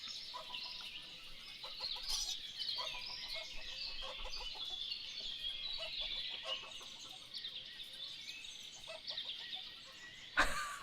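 Chickens cluck and chirp in the village-building video game Ostriv, a steady chorus of busy clucking throughout with a sudden sharp noise at the very end, and no talking.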